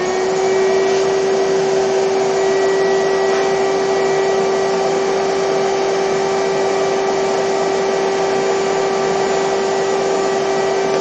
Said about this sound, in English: let's vacuum up